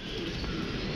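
Pigeons pecking at grain in a cold-weather loft, low cooing steady throughout, close and continuous with a broad hiss behind, no talk.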